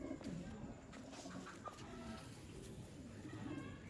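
Sialkoti pigeons coo softly and continuously in a faint, low murmur, with repeated throaty calls blending together against steady background noise.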